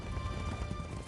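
Horses running with steady clip-clop hoofbeats and an occasional whinny, dense and continuous, set in a depiction of Spanish horses confronting Aztec warriors.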